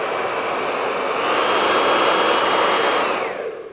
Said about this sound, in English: I'll just put a hairdryer in